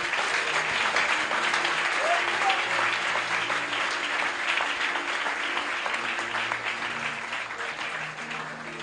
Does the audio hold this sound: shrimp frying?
no